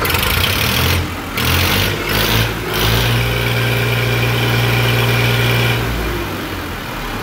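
A 240 tractor engine idles with a steady low throb, then revs up into a sustained higher drone for several seconds before dropping back, loud and close with no talking.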